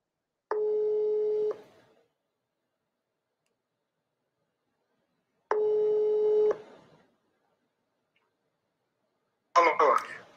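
A telephone call rings out during a live broadcast, with two evenly spaced long ringback tones separated by silence. A voice starts up right at the end.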